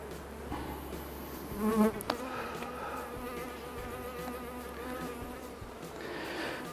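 Honey bees hum from an open Buckfast beehive during a pre-winter inspection, a steady close-up buzz with individual bees droning nearer and farther, faint and continuous with no talk.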